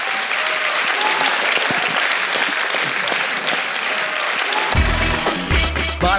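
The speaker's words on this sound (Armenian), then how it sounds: "իսկ հիմա խնդրեմ ծափահարություն" Loud, dense applause from a stand-up comedy audience rolls on for several seconds, then music with a strong bass beat cuts in near the end.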